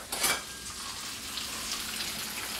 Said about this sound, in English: We'll be right back after a little bit of true bacon ASMR.